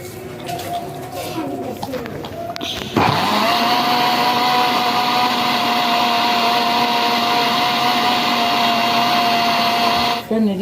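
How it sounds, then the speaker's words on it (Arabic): A blender blending powdered sugar starts up after a moment of clattering and runs steadily with a loud, even motor whir until it cuts off near the end. "هنضربه في الخلاط"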